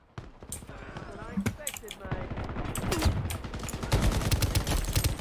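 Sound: gunfire in the video game Shatterline

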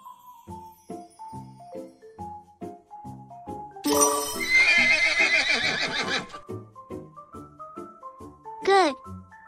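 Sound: horse neighing

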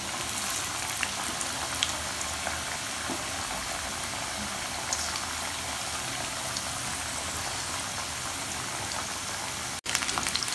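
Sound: chicken pakoras frying in oil

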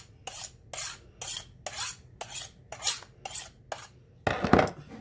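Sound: cutting onion with a sharp knife for dumplings

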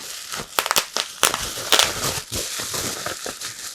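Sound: bubble wrap air bag being handled

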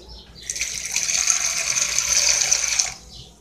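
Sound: pouring a little water into salad dressing

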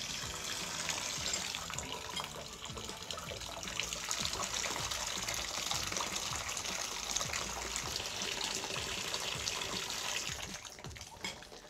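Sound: hot water running from a Delta tub faucet over a thermometer

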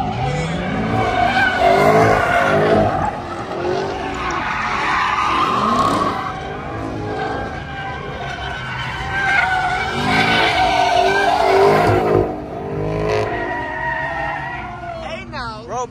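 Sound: Dodge Scat Pack car sliding with skidding tires

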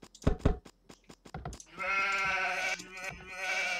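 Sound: sheep bleating in a video game

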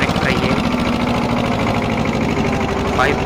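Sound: old Escort 335 tractor engine running

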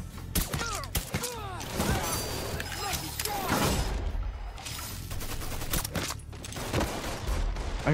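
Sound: pistol gunfire in video game Mafia 3

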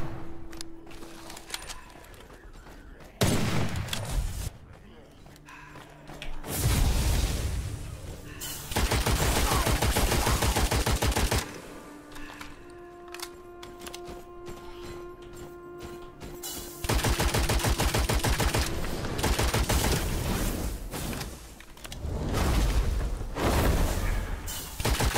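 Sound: sniper rifle gunfire in the video game Witchfire

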